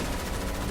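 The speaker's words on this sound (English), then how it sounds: "Those gun noises are loud" Gunfire rattles in the background as a dense, continuous burst of rapid shots, loud and unbroken for a brief moment.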